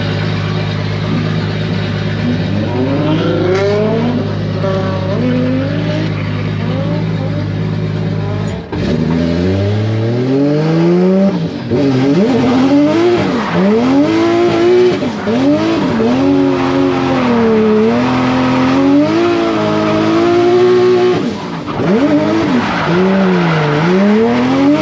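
An 800hp 2JZ-swapped Nissan 240SX lapping a track, its engine roaring loud and close as it revs up and down through gears, with a brief drop in pitch mid-run and squealing tires under hard driving.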